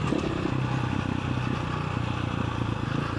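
KTM 525 EXC enduro bike on an off-road trail in the Algarve, a loud close engine chugging continuously with rough clatter and scraping from the terrain.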